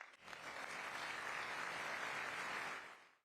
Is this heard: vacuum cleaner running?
no